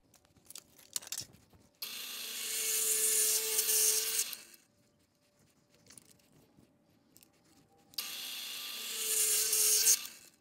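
A spade bit bores through stacked wooden boards in two separate bursts of harsh, grinding drilling, each lasting a few seconds with quiet handling noises between them.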